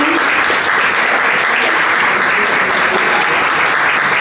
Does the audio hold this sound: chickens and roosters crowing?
no